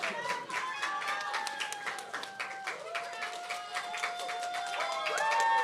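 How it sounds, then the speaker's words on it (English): An audience at a student talent and hobbies showcase applauds the announced winner with a steady patter of many hands clapping, while voices and cheers ring out over it at moderate distance. "Big round of applause."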